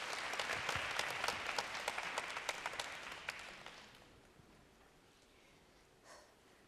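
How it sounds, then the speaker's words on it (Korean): A lecture-hall audience at a live university admissions briefing applauds as an English instructor is welcomed on stage, a quick bright clatter of clapping that thins and fades away over several seconds, followed by near quiet. "박수로 맞아주시면 대단히 감사하겠습니다"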